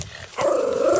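A puppy lets out a short, close, fairly loud growling bark that rises abruptly and holds as a tonal, snarling sound, with no voices over it.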